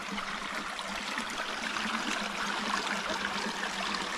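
Creek water flows and trickles nearby outdoors, a continuous, fairly soft hiss and babble that stays even throughout with no voices.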